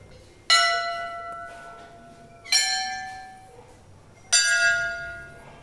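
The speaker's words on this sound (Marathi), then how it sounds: "इथे घंटी वाजवायला खूप छान आहे मित्रांनो" Temple bells rung by pulling a rope, three loud bright clangs spaced about two seconds apart, each ringing out and fading slowly, close by and with no voices.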